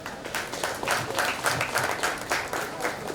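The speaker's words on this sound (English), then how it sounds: "So let's clap for her." Audience applauding at a kids fashion show in India, a steady burst of clapping with pulsing swells throughout, moderately loud and filling the room, no voices on top.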